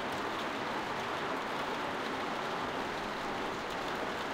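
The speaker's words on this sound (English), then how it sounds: "Oh, and it's raining too." Rain in the video game The Walking Dead by Telltale falls as a soft, constant hiss with no breaks, low and even throughout.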